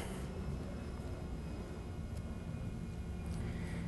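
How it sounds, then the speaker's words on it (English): A jet aircraft passing overhead outdoors at a trailer park, a steady broad rumbling roar that holds level throughout with no talk. "There goes a jet overhead."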